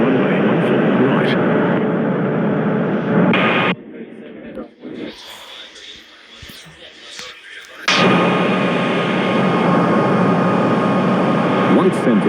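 Jet airliner engines roar at a runway in an air traffic control game, a loud steady whine that cuts out midway to a quieter gap, then surges back abruptly.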